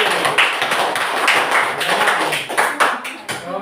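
A group of students in a classroom applauds with quick, uneven bursts of hand claps, and voices mix in under the clapping.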